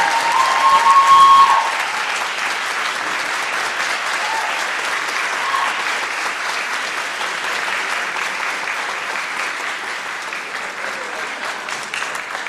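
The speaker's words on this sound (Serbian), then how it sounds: "Molim vas, pozdravite velikom aplauzom." Sustained applause from a festival audience at a traditional folk singing event, a steady wash of many hands clapping that carries on without a break, with a brief louder burst near the start.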